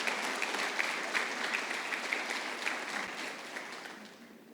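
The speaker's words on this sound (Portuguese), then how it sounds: "Você pode aplaudir o nome do Senhor Jesus por esse poder maravilhoso?" Congregation in a church service applauding in praise of the name of Jesus, steady sustained clapping from a crowd filling the whole moment and slowly tapering at the end.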